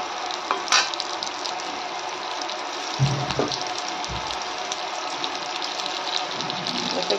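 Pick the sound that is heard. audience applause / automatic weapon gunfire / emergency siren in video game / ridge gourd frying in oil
ridge gourd frying in oil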